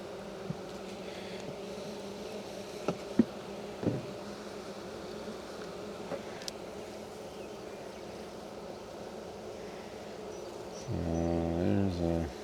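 Honeybees buzz in a low, steady drone while a hive is opened for inspection, faint and continuous with a few soft knocks, and a louder close buzz rising near the end.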